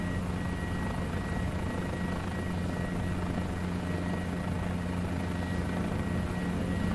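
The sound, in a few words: Guimbal G2 helicopter rotors in Microsoft Flight Simulator 2020 video game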